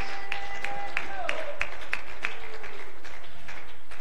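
Congregation clapping during a church service, a string of sharp, regular claps roughly every third of a second ringing out over a sustained musical tone, close and moderately loud.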